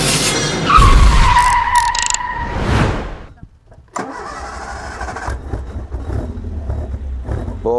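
A Westfield car on a dynamometer bench, its engine starting and revving loudly with a harsh rising tone, then a brief drop before another sustained, rougher run as the engine struggles.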